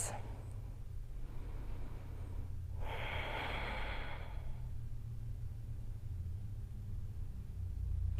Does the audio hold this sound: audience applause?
no